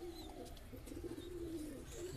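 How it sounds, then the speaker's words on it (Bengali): Andhra Madras pigeons in a breeding cage give a soft, low, steady cooing that stays faint and close, with no voices over it. "পায়রা আন্ধ্রা ম্যাড্রাস"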